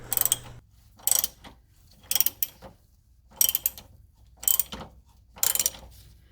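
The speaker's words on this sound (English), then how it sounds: "I'm in the process of removing the power steering cylinder support bracket, which is attached to the left-hand side of the frame with 4 retaining bolts." Ratcheting wrench clicks come in five or six short bursts, separated by brief pauses, while the retaining bolts of a power steering cylinder support bracket are removed from the frame of a 1977 C3 Corvette. The clicks are close and fairly quiet.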